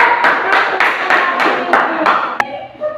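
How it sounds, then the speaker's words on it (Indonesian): A class claps hands in steady unison, about eight evenly spaced sharp claps ending in one final clap, loud and close. "Tepuk tangan, beri aplaus semua"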